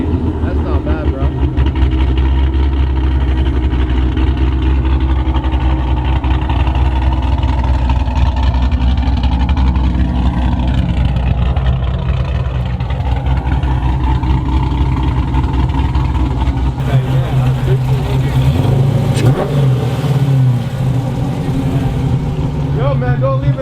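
A cammed V8 engine in a Chrysler 300 SRT8 idling with a deep, lumpy rumble close by, shifting pitch partway through as it revs and settles; voices talk over it.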